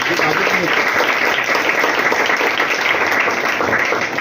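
Audience at a birthday celebration for former corporator Balasaheb Borate at the Anamprem organisation breaks into sustained, dense applause, with a voice talking over it.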